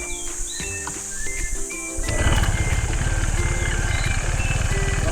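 A Honda PCX 160 scooter engine starts up partway through and runs steadily with a loud, rough idle; before it, quieter background sounds and faint bird-like chirps.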